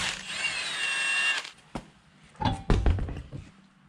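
A power tool whirs with a rising pitch for about a second and a half as it spins a lug nut off a Ford Explorer wheel. Metallic clunks and knocks follow as the tire is handled.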